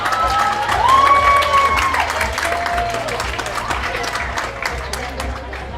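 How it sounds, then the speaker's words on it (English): A beauty pageant audience bursts into applause and cheering that swells near the start, then thins over several seconds, while a tonal sound glides above the crowd. "Let's give her a round of applause, ladies and gentlemen."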